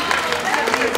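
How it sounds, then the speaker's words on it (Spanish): Audience applause rises for a tenor saxophonist introduced at a live band show, a brief burst of many hands clapping mixed with crowd noise and a voice. "un aplauso, por favor"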